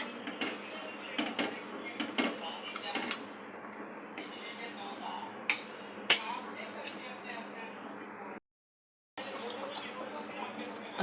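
Spoon stirring a rooster chicken curry in a metal pot: repeated light ticks and clinks of metal on metal, several louder knocks, and a soft wet shuffle throughout, with a short silent gap near the end.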